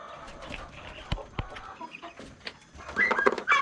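Chickens clucking inside a barn on a farm, a steady flock chatter with a few sharp louder calls, growing busier and closer toward the end.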